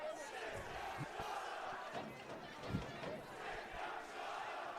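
A high school hockey crowd at a DeSmet versus SLUH game sends up a steady, rumbling chant that fills the rink, loud voices merging into a continuous roar with no single words standing out.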